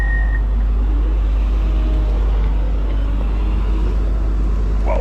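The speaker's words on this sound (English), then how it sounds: "trucks are lining up" Heavy trucks queue and idle nearby with a constant, loud low-end rumble, a short high tone near the start, and scattered mechanical clatter.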